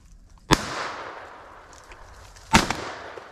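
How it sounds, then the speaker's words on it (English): Two sharp, loud gunshots fired at a squirrel while hunting outdoors, spaced about two seconds apart, each with a short echoing tail, no talk. "You shot 5 times at that squirrel."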